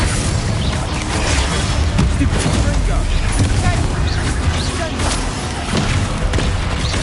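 Bombarda explosion spells cast in the Hogwarts Legacy video game, booming blasts buried in a thick, continuous wash of loud combat noise with no clear pauses.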